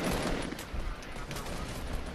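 Rapid, continuous gunfire in the video game Fortnite, loud and dense bursts filling the whole stretch with no gap.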